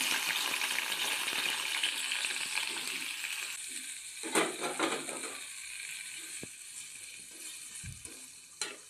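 Chopped ridge gourd frying in oil gives a soft, steady sizzle that fades after a few seconds, followed by occasional clinks and scraping from utensils, fairly faint with no talking.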